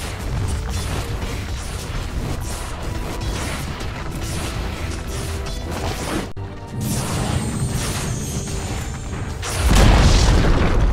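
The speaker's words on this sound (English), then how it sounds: "Dire's top tower has fallen." Dire's top tower crumbling in Dota 2, heavy booming crashes and debris over ongoing game noise, with a fresh loud impact near the end.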